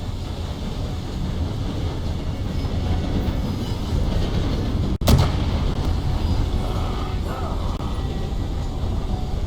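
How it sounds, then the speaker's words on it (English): Train rolling past in the Red Dead Redemption 2 video game, a continuous rumbling clatter of rail cars with a sharp metallic bang midway, steady and fairly loud throughout. "Too bad about that train."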